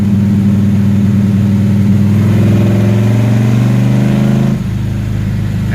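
A car engine with an 850 Holley carburetor runs loud and steady at around 2600 rpm with a throbbing low drone, then drops in pitch near the end.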